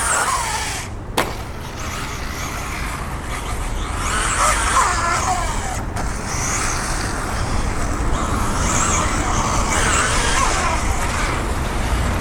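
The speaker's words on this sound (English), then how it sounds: "Car feels real good, like it has a lot of punch." An X-Ray XP4 RC car runs laps on a track, producing a continuous, loud buzzing drone that holds steady across the whole stretch without any talking.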